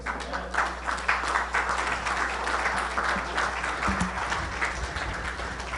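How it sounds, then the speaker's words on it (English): A conference audience at a JFK assassination research event keeps up steady, moderately distant applause from many hands for a speaker, with a low background hum and a faint voice underneath. "give me another round of applause for Vince Palamara"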